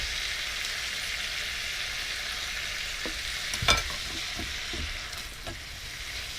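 Vegetables and meat sizzle steadily in a hot wok, a continuous bright frying hiss with a few louder stirring clatters and pops near the middle, no voices.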